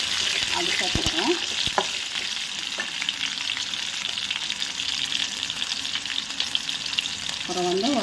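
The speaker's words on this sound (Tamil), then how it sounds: "சின்ன வெங்காயம் வதங்கட்டும்" Small shallots and green chillies sizzle and crackle steadily in hot oil in a pan, a close, continuous frying hiss with a few stirring clinks near the start and a brief scrape toward the end.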